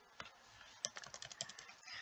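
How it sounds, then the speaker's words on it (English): Keys clatter on a computer keyboard while Python code is typed, a quick irregular series of close, crisp clicks spread over about two seconds. "Now I'm typing"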